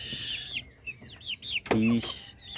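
Caged hens, about thirty chickens including small young birds, cluck and chirp in short repeated calls close by, with one louder squawk near the end over low background rumble.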